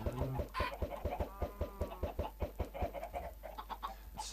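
Rapid, repeated clucks from video game chickens come in a quick, regular rhythm, close and clear over a low hum.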